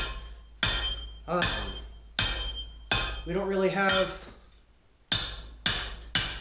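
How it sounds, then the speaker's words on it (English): Hammer blows on hot steel against an anvil during forging of fireplace tongs: about seven sharp, ringing strikes at an uneven pace, close and loud, with someone talking between some of them. "just going to kind of hammer on it and find out what we can work out"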